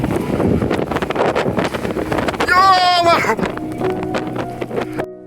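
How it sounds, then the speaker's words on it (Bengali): A strong Kalboishakhi storm wind gusts across a rooftop as rain begins, a loud roaring buffet against the microphone. People talk, and a brief rising whistle-like tone stands out midway. "দেখতে পাচ্ছেন এই মুহূর্তে অনেক ভয়ানক বাতাস এসেছে,"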